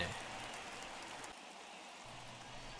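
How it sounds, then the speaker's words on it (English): Rain falls in a baseball video game during a rain delay, a dense, steady hiss of downpour that continues throughout, with a brief dip in the low rumble partway through. "Oh, do we have a rain delay?"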